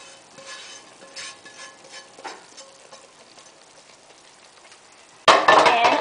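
Herbs stirred in a pan, quiet scrapes and soft taps at first, then a sudden loud burst of sizzling as they hit hot oil near the end.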